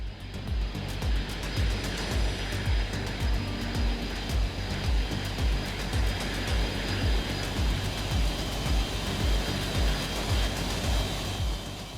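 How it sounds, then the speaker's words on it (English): Alaska Airlines Flight 261, a jet airliner, climbs out after takeoff with a steady, broad engine roar and a rhythmic low throb running continuously at moderate loudness throughout. "They take off smoothly and start their journey toward their final destination in Seattle."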